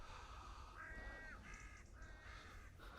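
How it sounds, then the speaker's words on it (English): At dawn in rural Worcestershire, a crow caws several times in short harsh calls, heard faintly and at a distance over a quiet, low outdoor rumble. "Birds are starting to wake up."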